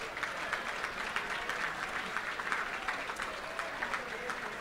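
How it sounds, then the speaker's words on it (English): A gala audience applauds in a steady patter of many hands clapping together, moderately distant and fairly soft, sustained without a break. "So please give a round of applause to all of our sponsors and contributors."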